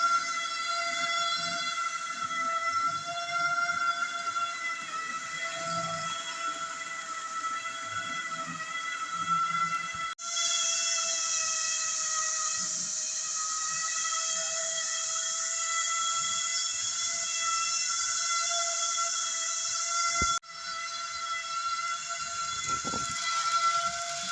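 A model Great Western Railway tender engine locomotive running on a layout, giving a steady harmonic whistle-like electronic tone with a continuous low rumble, loud and sustained with brief breaks, no talk.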